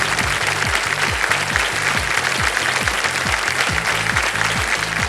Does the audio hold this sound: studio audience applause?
yes